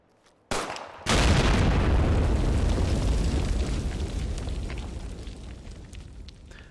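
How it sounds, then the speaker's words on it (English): A Fallout 4 explosion modded by Commonwealth Warfare: a brief pop, then a loud blast whose shockwave rolls and reverberates against the surroundings, decaying slowly over several seconds. "you can expect anything that blows up to send out a shockwave that resonates against the environment"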